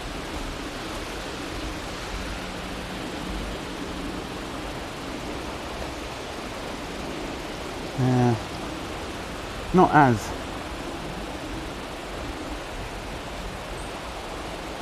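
A river rushes with a steady, broadband roar that fills the whole stretch, and someone speaks briefly twice over it.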